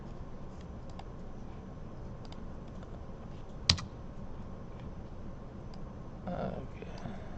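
Light scattered keystrokes tap on a computer keyboard during a software lesson, a few soft clicks and one sharper click midway over a steady low hum.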